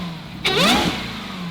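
Jeep Grand Cherokee Trackhawk engine in a shop, a totaled auction car now running: a quick rising rev blip that peaks and settles back to a steady idle hum, close and brief.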